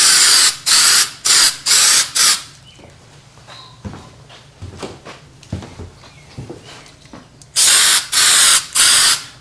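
CRC Zinc-It spray can hisses loudly in four short bursts as a second coat goes on, then quiet handling clicks and taps, then three more bursts close up.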